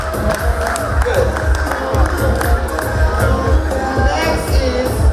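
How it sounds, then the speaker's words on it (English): An audience applauding and cheering for a youth performer at a community entertainment event, dense continuous clapping with some whoops, close and fairly loud, with voices mixed into the crowd. "Please clap for them, cheer them on"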